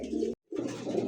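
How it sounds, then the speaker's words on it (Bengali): A racing or fancy pigeon coos twice in close succession, soft and near, with a brief silent gap between the low throaty calls. "কবুতর দেখেন"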